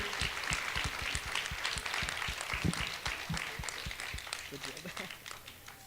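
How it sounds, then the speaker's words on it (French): Applause from a live audience at a comedy or talent show, dense and steady throughout with some overlapping chatter and movement underneath. "on les applaudit encore"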